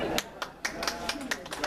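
Audience clapping at a county political group meeting, sparse, individual claps at close-to-moderate distance, a handful of sharp hand strikes over under two seconds with a faint voice behind.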